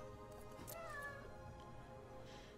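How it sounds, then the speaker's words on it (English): A pet cat meows once in a drawn-out, wavering call, quiet and fairly close, over a soft background hum. "My cat is announcing her presence."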